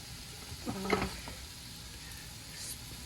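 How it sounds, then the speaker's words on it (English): Cabbage, onions, garlic and jalapeno cooking in a pan give a faint, soft sizzle, broken near the start by a brief clatter of stirring. "cabbage and the onions and garlic and jalapeno were already cooking."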